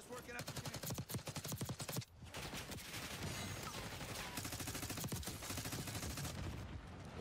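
Rapid automatic gunfire in the shooter game Call of Duty Black Ops 6, dense continuous bursts with a brief break, moderately loud and sustained, with some talk mixed in.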